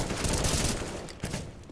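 Gunfire in Counter-Strike on the Mirage map: dense, continuous bursts of shots over about two seconds, loud and close, with no talking.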